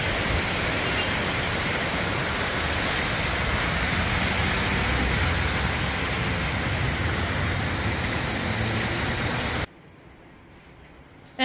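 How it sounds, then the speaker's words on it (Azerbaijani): Rain falls steadily outside a window, a dense, even wash of patter that holds at the same loudness and then cuts off abruptly near the end. "Baxın, pəncərəyə baxın, yenə yağış, nə günə qoydu"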